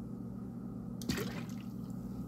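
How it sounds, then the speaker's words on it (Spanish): Milk poured into blended sweet corn for atol de elote, a short splashing pour that starts abruptly and gurgles briefly against a steady low kitchen hum. "le vamos a agregar otro poquito de leche"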